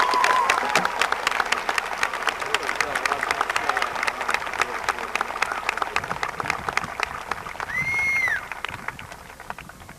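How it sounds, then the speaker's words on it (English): A large crowd at a 2005 high school commencement gives a big round of applause for the valedictorians, sustained clapping from many hands with scattered whoops and a short whistle-like squeal, slowly tapering toward the end. "let's give these valedictorians a big round of applause"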